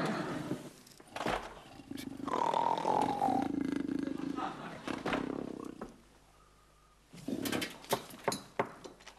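A big cat, a panther, gives deep, rumbling roars and growls up close. A fainter tonal call and some quieter stretches come between them, and the roaring returns in sharp bursts near the end.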